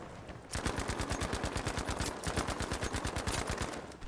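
Rapid automatic gunfire in a shooter video game, a dense, evenly paced stream of shots that starts after a brief lead-in and continues to the end.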